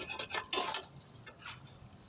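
Spices being stirred in a pan for mutton curry, a quiet scraping and rubbing of a utensil against the metal in a few short strokes, close and soft with no talk.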